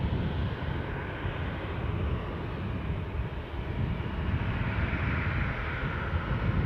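An Air France airliner at Newcastle airport produces a steady, broad engine roar at moderate distance, holding fairly even throughout with a slight swell toward the end and no voices.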